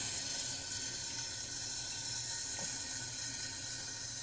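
Water runs steadily from a tap for a puppy's first bath, a constant hissing stream with an even level and a faint brief clink partway through, no voices.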